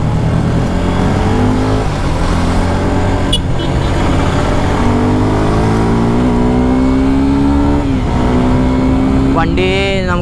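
A Suzuki Gixxer 250SF motorcycle accelerates steadily toward 100 km/h, its engine note climbing smoothly through the gears with a couple of brief dips at shifts, loud and continuous over rushing wind.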